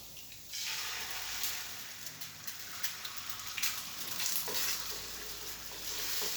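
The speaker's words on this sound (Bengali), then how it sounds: "এখন একটু তেল দিয়ে ডিমটা ফেটিয়ে নেব।" Beaten egg frying in mustard oil in a pan, a loud, dense sizzle with stirring scrapes throughout, close up and without talk.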